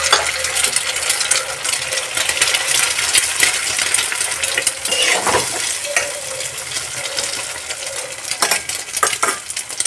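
An egg goes into a pan with capsicum over a high flame, a steady loud sizzle with scraping and clinking of a utensil against the pan throughout, no voices.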